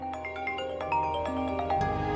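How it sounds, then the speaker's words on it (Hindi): A phone ringtone plays close by, a short melodic electronic tune of bright repeating notes, heard alone with no voices. "उठाओ फोन।"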